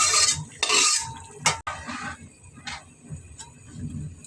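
Clattering of cutlery and pots as fried, boiled potatoes are tipped into a cooking pot, followed by a few light taps and scrapes.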